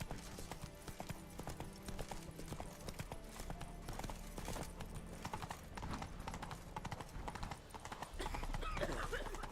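Roach the horse gallops in The Witcher 3, rapid rhythmic hoofbeats clip-clopping close and steady throughout, with a brief snort or whinny and growing movement noise near the end.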